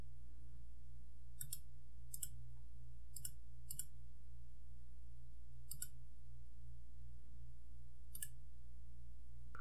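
Crisp mouse clicks from selecting items and triggering an export command in desktop software, about eight sharp isolated clicks, some in quick pairs, over a steady low electrical hum.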